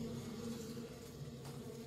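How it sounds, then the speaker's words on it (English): A steady, low insect buzz drones throughout, like bees humming nearby, with no voices. "I hear bees."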